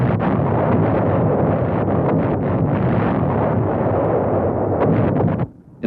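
B-52 bombers drop bombs near Khe Sanh, a dense, continuous roar of explosions rumbling loudly and evenly for several seconds before cutting off abruptly.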